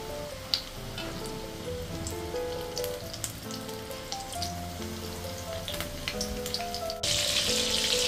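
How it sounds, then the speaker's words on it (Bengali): Battered lote fish pieces fry in hot white oil, a steady dense sizzle with scattered pops, joined by soft background music and growing louder and brighter in the last second. "এখন আমি এই যে এই ব্যাটারটায় মাছের পিসগুলোকে এইভাবে দিয়ে ভেজে নেব।"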